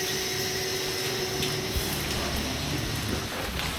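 Steady rainfall over the streets of Hoi An, Vietnam, during the rainy season, a dense, even wash of hiss that stays constant and close without any voices.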